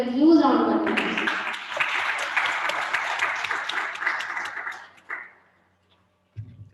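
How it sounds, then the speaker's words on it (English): Audience applause greets a keynote speaker, a behavioural trainer and leadership coach, at an event: steady clapping that lasts about five seconds, cuts off, then a brief voice follows. "So please welcome Dr. Saket Jeswani with a huge round of applause"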